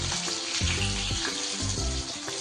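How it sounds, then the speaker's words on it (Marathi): Steady crackling sizzle of green chilies frying on a hot griddle over a low gas flame, with a low background hum running throughout. "गॅसची फ्लेम कमी करूनच तिला तव्यावर फ्राय करायची आहे"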